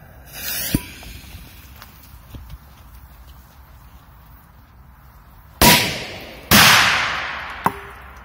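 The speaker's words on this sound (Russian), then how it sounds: "теперь давайте на два взрыва бахнем Корсар 4" Two loud Korsar 4 firecracker bangs about a second apart inside an enamel bowl, each with a ringing metallic tail, after a fainter pop and quiet background.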